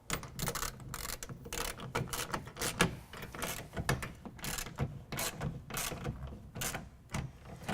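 A clamp on a roll-up tonneau cover is tightened onto the side rail of a truck bed on a 2009-or-later Ram 1500, giving rapid, repeated ratcheting clicks and mechanical rattles close by, fairly quiet and without speech.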